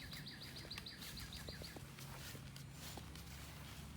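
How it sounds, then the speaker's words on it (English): A small bird chirps in a quick, repeated series outdoors in a backyard, faint and somewhat distant, then falls quiet amid soft background noise. "you probably just heard the bird in the background."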